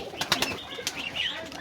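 Pigeons on a home pigeon farm make quick bursts of flapping wings mixed with soft cooing, close by and brief, with no voices.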